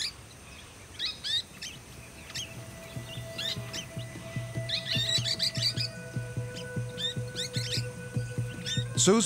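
Golden-shouldered parrots call in the wild on a bush property, with a steady run of sharp, high chirps and whistles that come closer and grow busier, over a faint constant insect-like hum.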